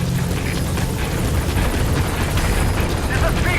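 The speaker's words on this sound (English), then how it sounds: "Support helicopter has arrived." Support helicopter arriving in Metal Gear Solid 5, a loud continuous rotor thump and engine roar filling the scene, with voices speaking over it.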